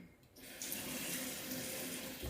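Tap water runs steadily into a sink to soak hog skin sausage casings, a close, even rushing flow that starts after a brief quiet moment and continues without talk.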